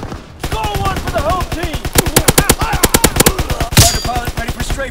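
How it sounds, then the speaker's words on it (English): A fighter plane's machine gun strafing run tears through in rapid, loud repeated bursts of automatic fire with a sharp blast near the end, voices and crowd noise mixed underneath. "Fighter pilot ready for strafing run."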